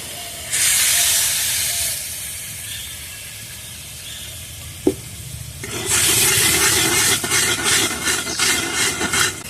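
Poppy seed paste hits a hot pan of okra and spices with a loud hiss that settles, then a second burst of sizzling rises and crackles in uneven pulses.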